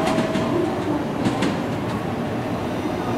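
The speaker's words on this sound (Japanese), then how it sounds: "まもなく普通列車の小倉行き到着です。" A JR Kyushu 883 series limited express train at Hakata Station gives a steady, loud rumble of rolling wheels and track noise, with faint station ambience around it.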